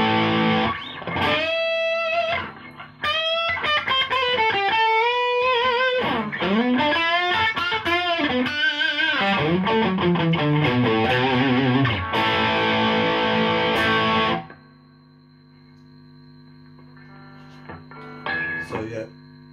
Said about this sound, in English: Put it on distortion. I'll just turn the amp on distortion.